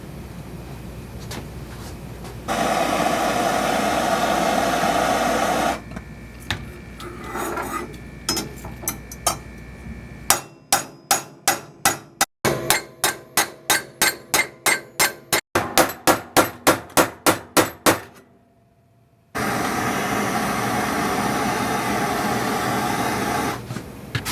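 Sharp metallic hammer blows on heated metal ring out in quick repeated series, loud and close, between stretches of steady hissing noise.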